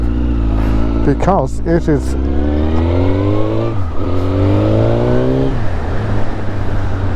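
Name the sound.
Suzuki GSXR 1000 K2 motorcycle engine revving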